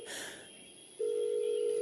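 Telephone ringing unanswered: a faint rustle gives way to a loud, steady electronic tone that begins midway and holds until the end.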